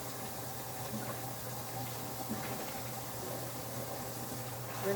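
Dyed polyester lace being washed in water, a soft continuous wash of splashing and trickling with a low steady hum underneath, fairly faint and close, with no talking.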